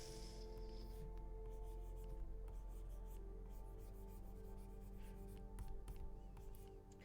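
A pen scratches and rubs across a drawing tablet in a soft, continuous, close rasp of irregular strokes, quiet under a steady background hum, with no talking.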